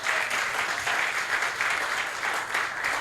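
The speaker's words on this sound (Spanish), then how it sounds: "Denle un aplauso a Cristo por eso." A congregation in a church applauds, sustained dense clapping from a crowd that stays steady and loud throughout, with no talking over it.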